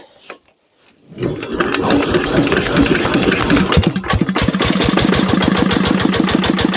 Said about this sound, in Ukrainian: Заводиться нормально, без питань.